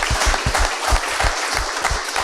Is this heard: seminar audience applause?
yes